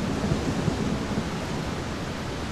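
A typhoon storm rages at sea, a dense, unbroken roar of wind, rain and surf that stays loud and steady from start to finish.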